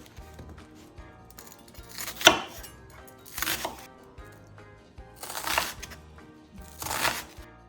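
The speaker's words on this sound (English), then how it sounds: "Next, we're going to do the onion, and we're going to finely dice it." An onion being finely diced with a knife for a confit byaldi, giving several separated chopping bursts of blade hitting a cutting board, close and fairly clear with faint background noise and no talk.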